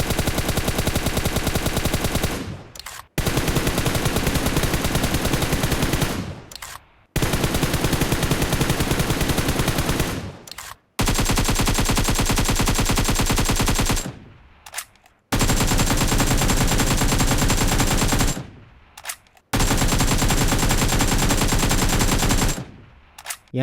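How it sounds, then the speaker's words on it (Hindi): Video game gunfire in long, dense automatic bursts, loud and continuous, cut by short silent gaps between bursts, with no talking. "अब गन फायर की साउंड को कंपेयर करते"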